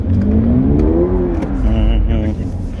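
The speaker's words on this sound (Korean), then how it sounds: "턴을 할 때 엑셀을 강하게 한번 해보겠습니다" A Toyota GR86 with a boxer engine and manual gearbox, driven hard on a circuit, revs up loudly under strong throttle through a turn, its engine note climbing and then easing off, close and dominant.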